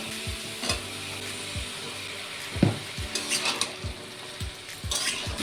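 Cut pumpkin, potato and Malabar spinach stalks sizzle in a hot pan as a spatula stirs and scrapes, a steady frying hiss broken by repeated rhythmic knocks of utensil on metal, close and without talk.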